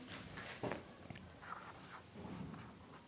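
Chalk or marker writing out a definition on a board during a physics lesson, a faint scratchy stroking in short irregular bursts over a quiet room hum, with no talking.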